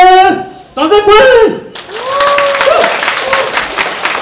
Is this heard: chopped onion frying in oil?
no